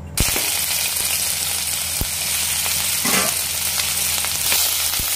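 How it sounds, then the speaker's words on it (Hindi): Jackfruit pieces fry in hot oil with a loud, steady sizzle that crackles throughout, and a few sharp pops and scrapes break through along the way. "अब तेल बढ़िया गर्म हो गया है, अब मैं इसमें सबसे पहले कटहल को थोड़ा सा भून लेती हूँ"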